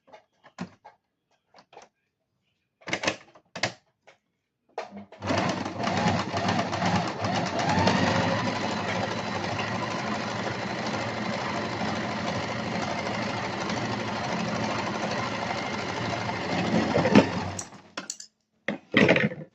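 A home sewing machine stitching a hem runs in one steady, fast whirring stretch of about twelve seconds, preceded and followed by a few short mechanical taps and clicks.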